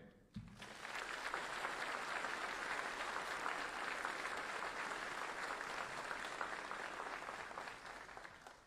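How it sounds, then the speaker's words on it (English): Crowd applauding the army band at a Fort Jackson basic training graduation ceremony, steady sustained clapping that starts abruptly and carries on evenly, heard from a distance in an open setting. "Please join me in a round of applause for our band."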